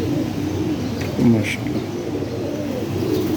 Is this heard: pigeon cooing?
yes